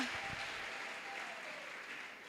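A church congregation claps together in sustained applause, a dense, even wash of hands that fills the space without pause before slowly easing.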